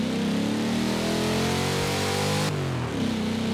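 A car engine in the Forza Horizon 4 racing game revs loud and steady, then the pitch drops briefly at an upshift before the revs climb again. No voices are heard.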